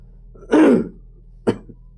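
A single harsh, close cough, followed a second later by a short throat-clearing rasp.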